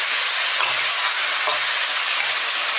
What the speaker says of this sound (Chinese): 然后继续给它翻炒均匀。